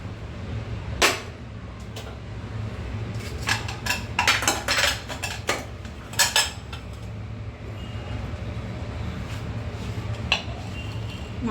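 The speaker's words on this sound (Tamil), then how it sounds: "ஒரு மிக்சிங் பவுலில் இதெல்லாம் ஆட் பண்ணிக்கிடுவோம்" Ingredients such as cabbage, mushroom, green chilli, salt, ginger, onion, coriander and rice going into a mixing bowl for street-style mushroom kaalan, heard as scattered clinks, knocks and rustles against a low steady background hum, with a denser flurry midway.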